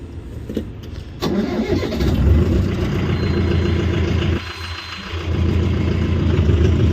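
A tractor engine cranks and catches, then settles into a loud, steady diesel rumble, dipping briefly before revving back up. No talking.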